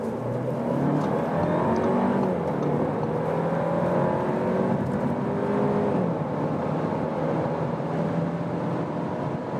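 An Audi A5 with a 2-litre engine accelerating hard on the autobahn, heard from inside the cabin as a steady, loud engine drone whose pitch climbs through the gears with brief shift dips.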